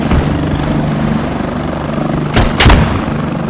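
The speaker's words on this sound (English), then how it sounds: "Helo's hovering above me." A military helicopter hovers overhead in a video game, its steady rotor thrum loud and continuous, with two sharp blasts near the end.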